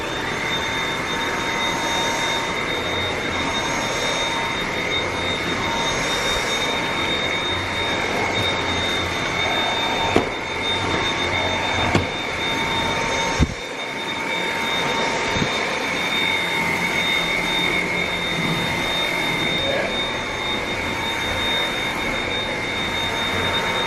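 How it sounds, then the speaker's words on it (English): A Dyson vacuum cleaner picking up loose dog hair after a grooming, running as a steady, close, loud whine with a constant high tone, broken by a few brief knocks and clicks along the way. "vacuum up the rest"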